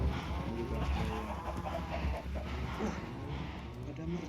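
Minecraft chickens cluck amid other farm animals like pigs, sheep and cows, with steady game noise throughout and soft, repeated clucks layered under a constant low hum.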